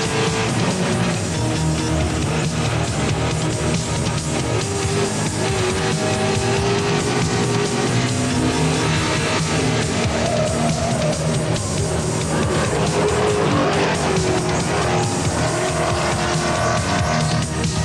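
A Rover saloon race car with about 300 horsepower, driven by Jeff Allen at up to 160 mph, roars continuously at high revs. The engine note stays loud and steady throughout, with no gaps.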